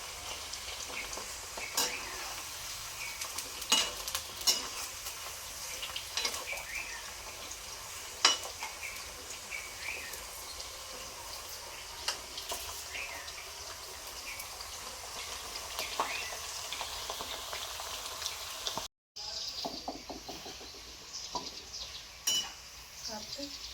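Bitter gourd pieces frying in a pan give a low, continuous sizzle with scattered sharp clinks and scrapes from stirring, close by, with a brief dropout near the end.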